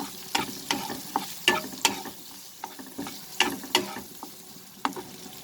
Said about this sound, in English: onion, we'll saute this over the medium flame